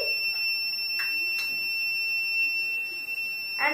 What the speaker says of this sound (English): Now let's on the lights and the buzzer starts ringing.